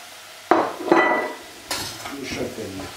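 Potato and chestnut pieces tumble into a soup pot already holding sweated onions and leek, a few sharp thuds and clinks followed by scraping and stirring against the pot.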